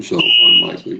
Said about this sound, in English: Well, I'm sorry about that beeping noise.